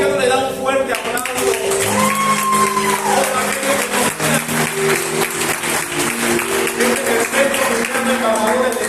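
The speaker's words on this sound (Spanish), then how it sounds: "¿Por qué no le da un fuerte aplauso?" A church congregation applauds loudly and steadily through a Sunday resurrection service, with music and a voice carrying over the clapping.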